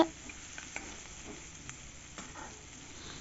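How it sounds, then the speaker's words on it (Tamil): Shallots sauté in a pan for a prawn and bottle gourd semi gravy, a quiet steady sizzle broken by a few light spatula clicks, close by with no talk. "சின்ன வெங்காயமே சேர்த்துக்கோங்க ஸோ சேர்த்து நல்லா வதக்கி விட்டுருங்க"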